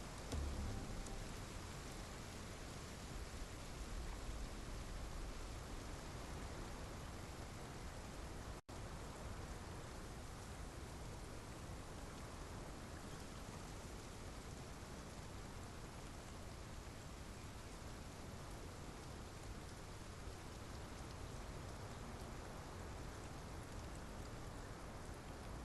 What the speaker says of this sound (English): someone turned on the rain